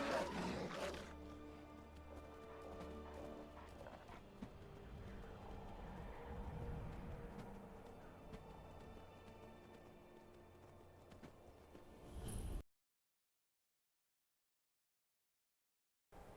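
Horse hooves clop steadily alongside snorts and whinnies in Skyrim with the Better Horses mod, with a low rumbling background, ending abruptly in silence.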